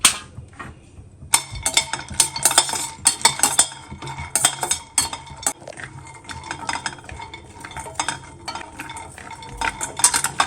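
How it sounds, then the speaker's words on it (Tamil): Cashews tossed in a pan for dry fruit laddu, a spatula scraping and clinking against the metal in quick irregular strokes, close and steady throughout with no talk. "அடுத்தது முந்திரி போட்டுக்கிறேன்."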